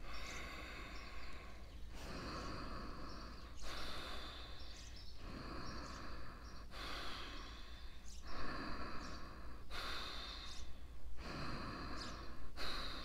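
Rhythmic yoga breathing from Kundalini breath of fire, forceful nasal exhalations and inhalations repeating in steady bursts about every one and a half seconds, close and fairly loud throughout.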